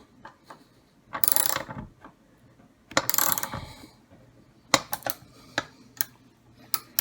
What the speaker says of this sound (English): Tighten that vise a little more.